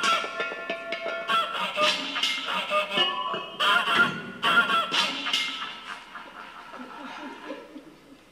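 Six geese honk loudly and nearly without pause during a staged comic egg-laying routine, their nasal cries overlapping close by, with a little low chuckling mixed in.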